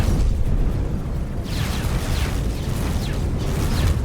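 Spaceship turrets firing in the space game X4 Foundations, a dense continuous roar of rumbling shots with repeated sweeping zaps layered over it, loud and steady throughout.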